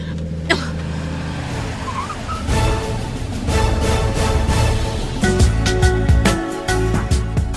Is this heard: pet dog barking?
no